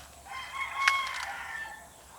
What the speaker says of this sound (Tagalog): Marami na nangingitlog doon kasi ang lalaki na eh. Pumuputak-putak na eh.